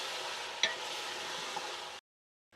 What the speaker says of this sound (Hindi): और अब हम लहसुन अदरक के साथ भी इसको अच्छी तरह से फ्राई करेंगे।